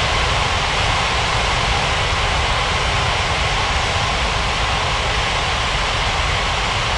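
A constant, loud, broadband jet roar from an airliner landing in an air traffic control game, steady and unchanging throughout with no voices.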